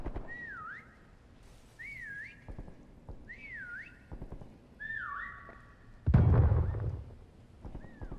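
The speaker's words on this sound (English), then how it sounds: "We're about to whistle right now." Several people whistle short, rising-and-falling tones one after another, followed by a loud burst of noise and another faint whistle.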